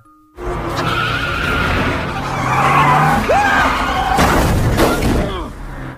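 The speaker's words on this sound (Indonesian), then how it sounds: "Dan Ned tak sadar mengejar mobil yang tak ada Sherry di dalamnya." A car skidding during a film car chase, with screeching tire squeals and engine roar over sustained road noise, plus a sharp crashing burst near the end.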